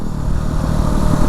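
Yamaha WR250R motorcycle engine running steadily while riding through Stanislaus National Forest, a close, loud, continuous drone with rough low rumble and no speech.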